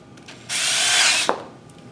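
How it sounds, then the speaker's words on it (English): A power drill bores a hole with a 5/16 bit through a single layer of a removed track for a night lock, a loud, steady whine lasting under a second that ends in a short sharp crack as the bit breaks through. "we're going to take a 5/16 drill bit and drill our hole."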